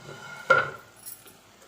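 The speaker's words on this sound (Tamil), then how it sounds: "இப்போ நம்ம மூடியை ஓப்பன் பண்ணி பார்க்கலாம்" A single sharp metallic clink as a lid comes off a pan of cooking brinjal, followed by a soft faint rattle, with no voices.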